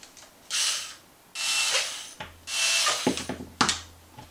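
Shock screws being backed out on a Traxxas Maxx RC truck with a hand driver, close ratcheting clicks in short bursts of about a second each, with small rubbing and tapping sounds between them.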